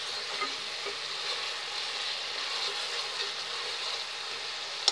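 Zucchini sizzling in hot oil with fried spices in a pan, a steady close hiss and crackle of frying that holds evenly throughout, with a faint clink at the end.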